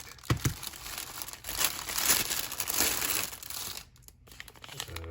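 Tape packaging from an RC airplane kit crinkles and crumples up close in irregular bursts of handling, rising and falling, with short pauses between.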